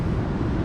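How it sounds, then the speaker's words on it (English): Wind gusts across a beach camping zone on Fraser Island, a brief rumbling buffet of air hitting the microphone, loud and continuous with no voices. "It's just been a shame about the wind."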